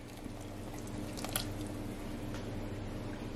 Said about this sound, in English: Now we're going to add in our heavy whipping cream